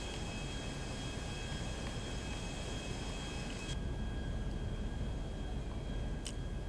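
Aircraft flying overhead in GTA V, a steady broadband engine roar that holds at constant level throughout, with a faint high whine running over it.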